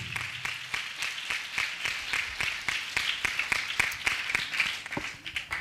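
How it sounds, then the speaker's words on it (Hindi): A congregation at a church's annual prayer festival applauds in Nagpur, with sharp, distinct claps in a fast, fairly regular rhythm. It is loud and close and holds steady for several seconds, with a brief faint voice at the start. "जोरदार तालियां।"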